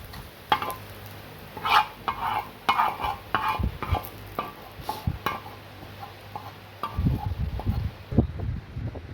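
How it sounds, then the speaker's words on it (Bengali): Fried onions are stirred and lifted out of a pan in a village kitchen, with repeated scraping spatula strokes over a faint sizzle, then a rougher burst of handling near the end. "পেঁয়াজ ভাজা হয়ে গিয়েছে, তুলে নিচ্ছি।"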